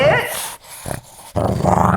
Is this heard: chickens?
no